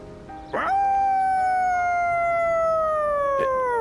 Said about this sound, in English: Koromaru's howl resounds throughout the quiet shrine